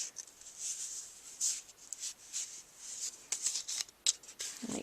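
A sheet of paper for a Christmas star ornament is folded and creased corner to corner, making close, crisp rustles and quick rubbing swipes in short uneven bursts.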